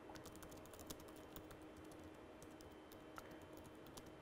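Computer keyboard typing a comment in a webinar demo, a steady run of quiet, close key clicks with a few slightly louder taps, faint room hum underneath, no talking.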